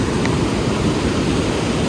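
Steady rushing creek water fills the clip, a dense continuous hiss and roar with no voices.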